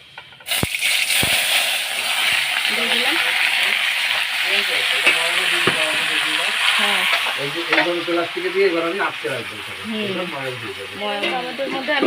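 Tomatoes hit hot oil tempered with dried red chillies and mustard seeds, giving a loud, steady frying sizzle with stirring scrapes, and a voice talks over it throughout.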